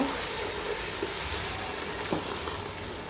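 Chopped tomato and spices fry in hot oil in a pan, a steady, soft crackling sizzle running evenly throughout with a few small pops, no voices.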